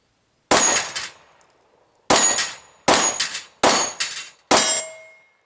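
Five sharp pistol shots from a compact Glock 48 or Sig P365XL fired at a target, each a loud, crisp crack with a brief ringing tail, spaced irregularly about a second apart.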